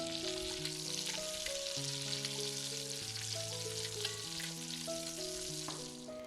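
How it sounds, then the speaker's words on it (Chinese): Large chunks of carrot fry in a pot while a beef bourguignon is being made, giving a soft, continuous sizzle beneath background music. "放入锅中，先煎炒2分钟。"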